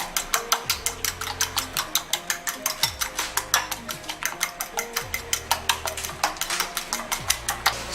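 Vegetable fried rice being stirred and tossed in a pan, with rapid, regular scraping and clinking strokes of a utensil against metal, close and fairly loud, over a faint lower hum.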